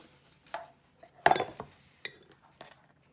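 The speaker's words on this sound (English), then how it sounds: "you're now going to move on to chopping your almonds" A knife strikes a cutting board while roughly chopping almonds for Spanish polvorones Christmas cookies, giving about six sharp, irregular knocks and clinks close by, with no talking.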